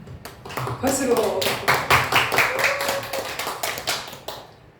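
A congregation claps during a church worship service, a quick run of rhythmic hand claps that builds and then fades, with voices mixed in.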